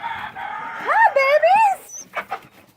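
Roosters and cockerels in a rooster barn give a close, loud run of harmonic calls that rise and fall in pitch, followed by a few shorter clucking bursts.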